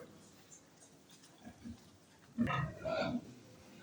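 A pig recovering from illness, now eating with a good appetite, gives a few soft grunts and then two louder, close grunting bursts near the end, over quiet background.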